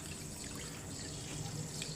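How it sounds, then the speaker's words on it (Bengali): Water coming to a boil in a covered pot with salt, ready for pilaf rice, a continuous close bubbling hiss that stays steady throughout, no voices. "এখন পানিটা ফুটে উঠেছে"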